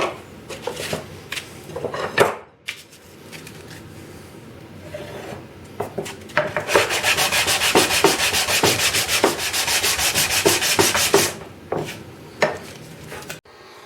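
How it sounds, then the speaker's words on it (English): Rhythmic rasping strokes of sanding on wood, faster and steadier in the middle stretch, with a few knocks and clatters around it. "We're sanding."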